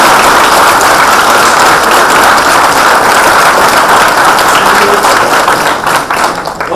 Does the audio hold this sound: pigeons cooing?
no